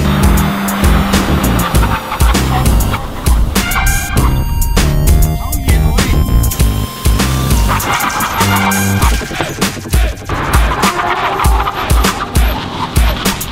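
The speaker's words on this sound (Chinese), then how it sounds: "现在我们要来跑到120，紧急刹车。" A Toyota Vios on new aftermarket brake pads brakes hard from 120 km/h, its tires squealing loudly and continuously for several seconds over a roaring engine and road noise, with no talking.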